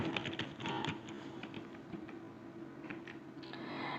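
A GST number being typed into Tally accounting software on a computer keyboard, with quick, irregular key taps in short bursts, soft and close, with no talking.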